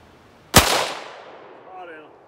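A single sharp, loud pistol shot from an FN FiveseveN or Ruger-57, its crack fading into a short outdoor echo, with a faint sound after it.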